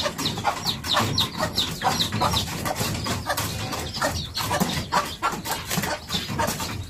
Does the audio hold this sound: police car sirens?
no